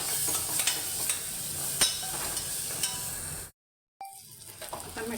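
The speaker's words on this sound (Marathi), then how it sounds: "आणि हे सगळं छान परतून त्याच्यामध्ये आता मटकी घालणार आहे मी" Spices with Kashmiri red chilli sautéing in a pan, a continuous close sizzle with scraping stirs, cut by a short silent gap before the frying resumes, no talking.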